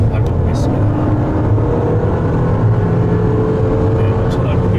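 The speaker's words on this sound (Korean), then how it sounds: "지금 추월 가속을 이번에 한번 밟아보겠습니다." A 2020 Toyota RAV4 with a 2.5-litre gasoline engine revving hard while accelerating to overtake, a loud, sustained cabin drone with a steady rising engine tone.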